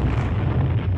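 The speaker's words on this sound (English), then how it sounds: "Pierce activates the charges, causing an explosion that is heard all across the shallow valley." Demolition charges go off in a shallow desert valley, a single heavy, rumbling boom that fills the whole moment with deep, sustained low roar.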